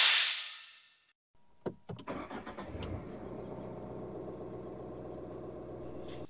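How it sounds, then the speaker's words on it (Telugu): A sunroof motor closes in a 2025 Tata Nexon diesel manual, a loud rising whir lasting about a second. After a short pause the engine cranks, catches and settles into a steady, close idle. "Closing sunroof."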